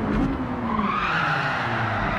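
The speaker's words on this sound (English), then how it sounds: "And a bit of handbrake action" Mazda Roadster Touring Car pulled into a handbrake skid, tires squealing loudly over the engine's drone in one continuous slide lasting about two seconds.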